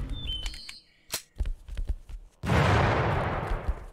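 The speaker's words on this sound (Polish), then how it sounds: "Okej, bomba wybuchła." A bomb explodes in The Final Station, a broad loud blast after a second of scattered sharp clicks and thumps, and the roar holds steady to the end.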